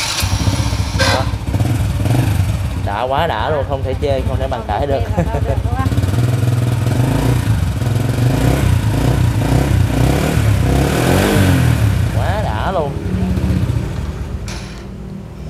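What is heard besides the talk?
2005 Supreme motorcycle engine running, exhaust sound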